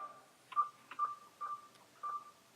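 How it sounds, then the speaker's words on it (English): Keypad beeps sound on a mobile phone as a token received by SMS is typed in, about five short, evenly spaced electronic tones, faint and close, over a quiet background. "So when Dave presses this button, he's asked to enter the token that was delivered to his mobile phone by SMS"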